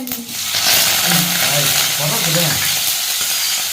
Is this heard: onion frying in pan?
yes